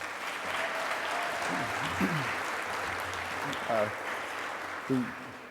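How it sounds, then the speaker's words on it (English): A crowd at an awards ceremony applauds steadily throughout, a broad wash of clapping with voices calling out and talking underneath it. "If you could please give Dave Mockamer a round of applause, please."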